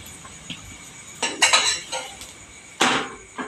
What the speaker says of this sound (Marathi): आपलं थालीपीठ आता खमंग तयार आहे. तर ते मी एका जाळीवर काढून घेणार आहे